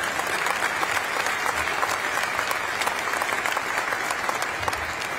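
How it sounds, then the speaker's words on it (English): Audience applause at a NASA announcement about a Mars mission, continuous dense clapping at an even level throughout. "You're getting applause if you can't hear it."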